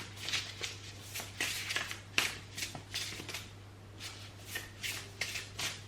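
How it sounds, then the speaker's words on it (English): Tarot cards are shuffled by hand in quick, close, crisp riffling bursts with short pauses between, over a steady low hum. "I'm going to reshuffle."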